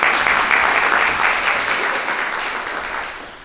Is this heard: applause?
yes